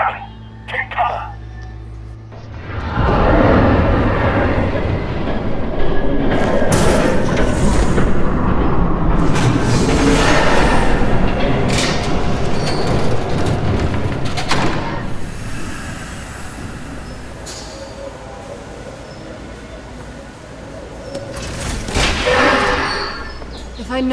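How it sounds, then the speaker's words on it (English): A train in Batman: The Telltale Series rushes past as a loud, sustained rumbling roar that builds after a few quiet seconds, holds, then slowly fades, with characters talking over it. "There's a train coming."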